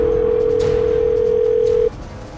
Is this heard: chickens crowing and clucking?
no